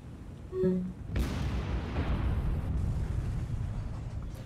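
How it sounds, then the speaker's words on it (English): A naval explosion in the War on the Sea game booms with a heavy, broad blast, then a long rumbling roar that lingers and slowly fades. "Come on, give me another explosion."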